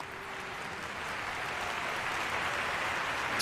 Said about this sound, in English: you can hear the crowd has their favorites as well as they take their stride down the arena